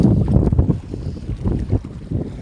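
Gusty wind buffets the microphone while rough sea waves slosh and slap irregularly, rising and falling in loud bursts with no talking, during stormy, windy weather at sea.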